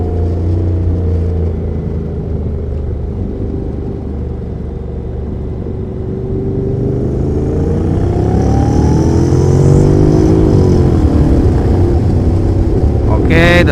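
A Honda NC750X motorcycle rides on a race track, its engine droning steadily and then revving higher with rising pitch sweeps as gears change, under wind rumble and speech.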